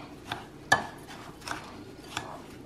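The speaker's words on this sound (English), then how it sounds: "I'm only gonna add a quarter of a cup of melted butter to that and mix it really well together" Ground cheesecake crust crumbs stirred together with melted butter in a bowl, a few faint scraping and tapping strokes of a utensil against the dish, quiet and close with no talking.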